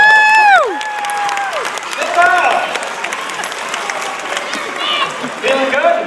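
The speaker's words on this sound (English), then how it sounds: "Give him a big round of applause." Audience applause and cheering at a magic show, a steady crowd clapping with whistles and shouts from children layered over it, lasting the whole stretch at moderate loudness.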